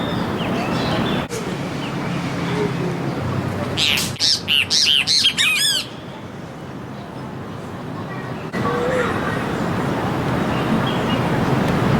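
Loud, harsh squawking calls of buff-necked ibises burst out in a quick series over steady background noise and rumble in Goiânia, Brazil, then stop.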